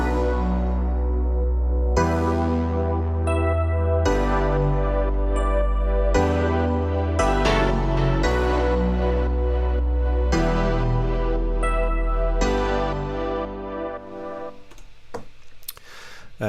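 Synth pads, a deep Massive bass and piano play together in a layered arrangement, with chords changing every couple of seconds, low bass notes pulsing beneath, and the mix thinning toward a sparse, clicky tail near the end.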